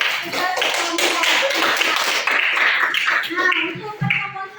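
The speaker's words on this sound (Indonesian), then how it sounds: "Kita tepuk tangan dulu karena sudah selesai menyelesaikan tugas kelompok." A classroom of students clapping together after finishing group work, a dense burst of applause close by that runs for several seconds before trailing off.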